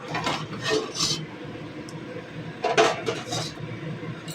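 Boiled shyama rice and sonamung dal are stirred together in a pot for a vegetarian khichuri, with repeated scraping and clinking of a spoon against metal coming in short bursts, close by and with no talk.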